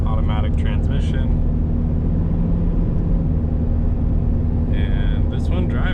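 A 1993 Toyota Hiace Super Custom Limited van with the 1KZ engine, automatic transmission and full-time four-wheel drive gives a steady, loud cabin rumble and road drone. A person talks over it at the start and end.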